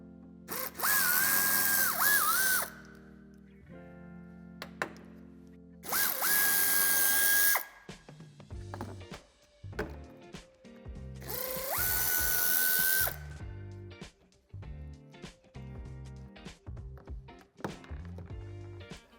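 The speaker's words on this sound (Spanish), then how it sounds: "Con la ayuda de un vaso de Tor de 15 aflojaremos y podremos sacar la grapa." Ratchet wrench with a Torx 15 socket loosening threaded plastic clips on a Volkswagen Tiguan bumper, heard as three loud sustained whirring bursts separated by quieter clicking and mechanical handling.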